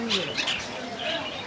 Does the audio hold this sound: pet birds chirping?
yes